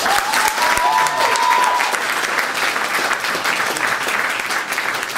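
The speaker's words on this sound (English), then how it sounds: "I want you to give will.i.am a great round of applause." Crowd at an outdoor political rally applauding will.i.am, loud sustained clapping and cheering from a large audience, continuous throughout with a brief whistle near the start.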